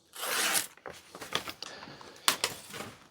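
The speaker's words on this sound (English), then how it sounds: "Slicing through the paper." An axe slices through paper and cardboard with a long tearing rip at the start, followed by several shorter scraping and crackling bursts and a final sharp rip, close and fairly quiet.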